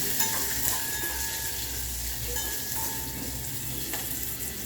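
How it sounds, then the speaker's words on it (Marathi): Cumin, garlic, mustard seeds and asafoetida frying in hot oil in a home kitchen pan, a steady close sizzle with crackling and a few faint stirring scrapes, no voices. "थोडंसं जिरे लसूण राई थोडा हिंग थोडं चांगलं परतून घ्यायचं"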